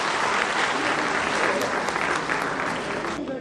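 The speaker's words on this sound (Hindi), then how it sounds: "स्वागत के समय हम लोग तालियां बजाने में कोई कंजूसी नहीं करें।" Dense, loud applause from an audience at a political gathering in Jaipur, sustained clapping filling the whole moment before tapering slightly at the end.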